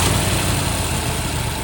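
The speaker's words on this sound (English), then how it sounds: "we're gonna fire this Boss 429 up, let you guys hear it" A cold 1969 Ford Mustang Boss 429 in Raven Black, matching numbers, idles with a loud, steady, deep rumble right up close and no one talking.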